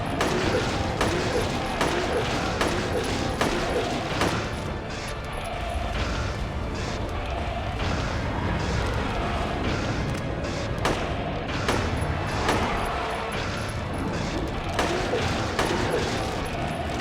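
Gunfire rattles in a Silent Hill game, with repeated shots and booming bursts over a steady noisy background for about seventeen seconds, some louder volleys near the start and end.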